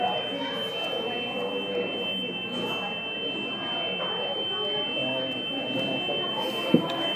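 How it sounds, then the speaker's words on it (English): A museum alarm sounds as a constant high electronic tone, steady and moderately loud throughout, beneath the chatter of people talking nearby. "There's an alarm!"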